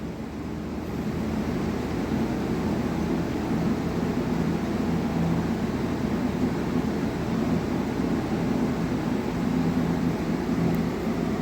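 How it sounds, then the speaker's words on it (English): A quiet exhaust fan in a shop air filtration box spools up from near silence within the first second, then holds a steady, soft, even whoosh with a faint low hum, no voices. "Nice thing about this exhaust fan is even at max speed, it's very, very quiet."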